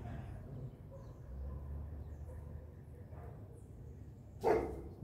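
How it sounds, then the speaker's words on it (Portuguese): An agitated police dog gives a single sharp bark near the end, somewhat distant, after several seconds of quiet low rumble. "Cachorro policial ali, ó. Cachorro tá brabo"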